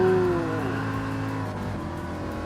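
Racing car engine sound in Gran Turismo Sport, a 1963 car with only four gears, wheels spinning under power: a loud, steady, harmonic engine drone with a rising whine at the start, continuous throughout.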